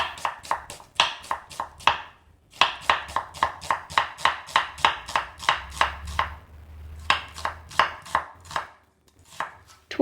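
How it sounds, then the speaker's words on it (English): A knife thinly slicing a cored onion for a tuna and lemon coleslaw, with rapid, evenly spaced sharp chops on a board, close and clear, in bursts with a brief pause midway. "You remove the core so that the onion slices will separate well. Slice thinly like this."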